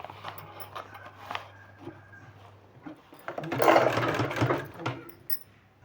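A sewing machine stitches a strip of fabric onto a sleeve in bursts of running, alone, loudest and densest toward the end, with pauses between runs.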